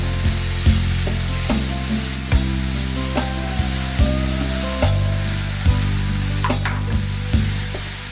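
Steak sizzles loudly and steadily in a hot pan cooking aboard a boat, a constant close frying hiss broken by regular clicks and scrapes from stirring or shifting the meat.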